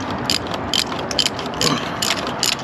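Ratchet turning to loosen a spark plug on a Mercedes CLS63 AMG M157 engine, a close series of quick crisp clicking bursts repeating steadily.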